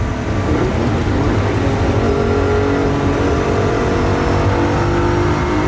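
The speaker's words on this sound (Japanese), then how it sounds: "4速にシフトダウンして、引っ張ってみます。" A Ferrari engine, just downshifted to fourth gear, revs hard and steadily, a loud continuous roar climbing in pitch with no voices over it.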